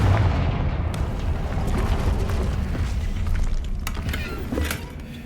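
Confringo fire spell explosion in Hogwarts Legacy, a heavy booming blast followed by sustained rumbling and crackling debris, loud throughout, with no talk.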